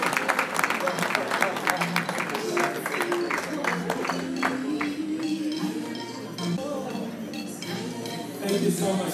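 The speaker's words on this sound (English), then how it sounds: "let's give an applause, a round of applause to Kwese" An audience claps through a round of applause at a Thanksgiving dinner and awards ceremony, dense clapping that thins over time, mixed with crowd voices and faint clinks of dishes and cutlery.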